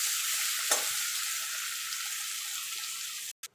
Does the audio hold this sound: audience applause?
no